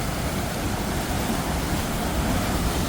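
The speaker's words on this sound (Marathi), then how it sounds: "हे पाटाचे पाट आहे, किती प्रवाहाने पाणी येते ते बघा." Water rushing through a canal fed from the Pimpalgaon Joga dam, a dense, steady roar of flowing water heard close and loud throughout without any voices.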